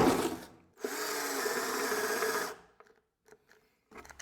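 A Black Tools TB12A cordless drill whirs back on with a steady motor whine for about two seconds, then cuts out, leaving a few faint clicks and handling noises.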